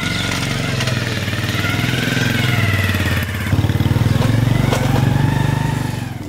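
A motorcycle engine runs nearby at a steady, loud idle-like throb with a slight dip and surge midway, no voices heard.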